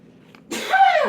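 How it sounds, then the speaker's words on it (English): A man's single sharp sneeze bursts out after a quiet moment, close and fairly loud. "There goes my husband sneezing."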